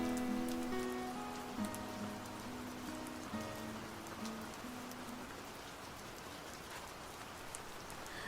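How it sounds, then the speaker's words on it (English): Steady rain pattering against window glass during a storm, a dense continuous hiss of drops with scattered sharper ticks, heard alone beneath soft sustained musical tones. "The rain pounds harsh against the glass like an unwanted stranger."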